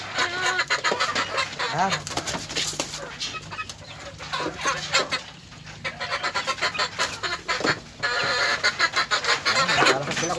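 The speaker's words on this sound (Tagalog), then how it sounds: "Meron tayong mga alagang manok." Pet chickens cluck and squawk loudly up close while being fed, with busy overlapping calls and occasional honking-like cries; someone speaks briefly among them.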